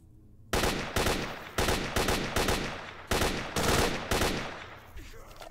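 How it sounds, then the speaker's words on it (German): Bursts of gunfire in S.T.A.L.K.E.R. Shadow of Chernobyl, about eight loud, sharp shots fired in quick irregular succession at the player, close and dominant with no talk over them. "Versucht ihr gerade mich durch die Decke zu erschießen?"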